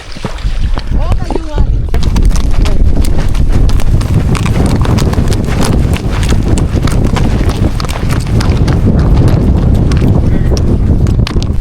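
Rhythmic clip-clop of horse hooves in Mongolia, loud and close, running steadily under a busy noisy background with some voices.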